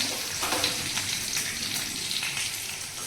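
Fish oil fries in a pan, giving off a close, steady crackling sizzle that runs on without pause.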